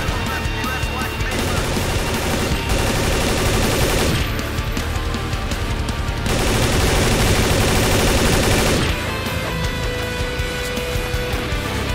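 Sustained automatic gunfire from a Half-Life 2 firefight, dense rapid bursts running almost continuously with brief dips in intensity, loud and close throughout.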